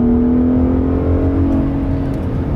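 A truck on 37-inch tires accelerates at wide open throttle on a track, its engine droning loud and steady with a strained, rising tone and no talking.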